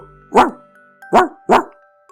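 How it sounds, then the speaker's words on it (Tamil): A dog barks loudly and close by, three sharp barks with a pause after the first and the last two in quick succession. "பயங்கரமா குலைச்சிச்சு இந்த நாய்"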